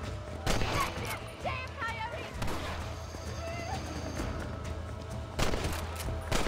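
Several sharp gunshots crack out in the video game Red Dead Redemption, one early and a couple more near the end, amid game sound effects and ambient noise.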